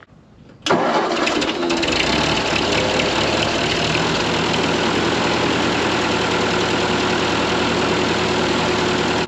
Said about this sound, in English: We'll start it up and pull it out of the barn and let it idle for a minute